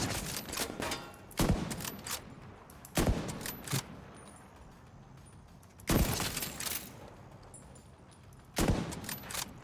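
Bursts of video game gunfire crack out in four loud volleys spaced a few seconds apart, each a sharp cluster of shots with brief rattling tails, alone with no talk, over a steady low game background.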